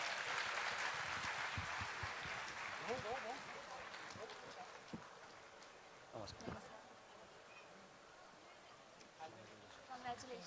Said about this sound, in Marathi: आता आपण यांच्या भेटीनंतर टाळ्या वाजवा ना